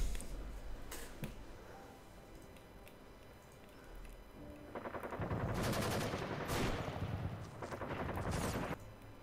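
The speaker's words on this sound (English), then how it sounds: "We'll just say regular gunfire sound effect then" Bursts of gunfire, first a few scattered sharp shots, then sustained rapid automatic fire in loud rattling volleys that stop and restart, fairly close and with no voices.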